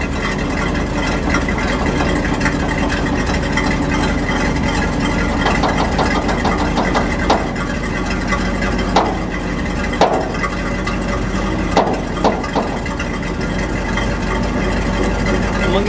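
A 1967 Ford F600 dump truck engine idles steadily and close by, a constant low rumble with a few brief knocks and clanks over it and faint talk in the background.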